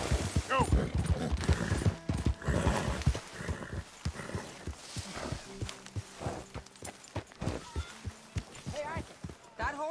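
Horse hooves in Red Dead Redemption 2 clip-clop in a steady walking rhythm, fairly close, with a brief whinny-like sound among the hoofbeats and voices talking over them.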